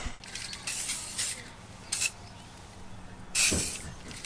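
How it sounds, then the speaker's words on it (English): Blades of a Toro Timemaster reel mower, freshly coated with WD-40, spin with soft airy whirring and several short louder swishes, close by with no talk. "So I've been putting some just WD-40 on these blades and then spinning it."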